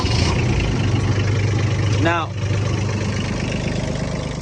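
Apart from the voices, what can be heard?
tractor engine idling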